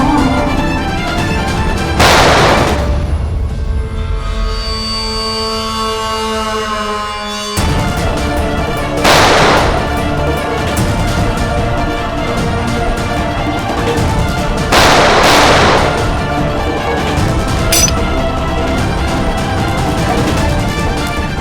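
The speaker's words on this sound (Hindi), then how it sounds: "मैं गोली चला दूंगा।" Loud gunshots ring out in a crime-drama scene, with three big blasts spaced several seconds apart, each followed by a ringing tail over continuous background noise.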